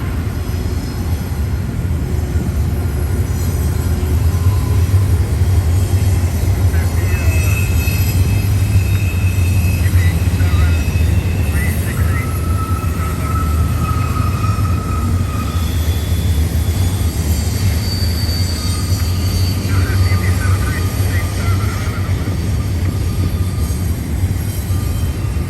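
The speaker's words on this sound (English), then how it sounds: "Alright, we got a nice stacked intermodal." A BNSF stacked intermodal freight train rolls past at the rocks, a loud continuous rumble of wheels and railcars with occasional wheel squeal, steady and close throughout with no talking.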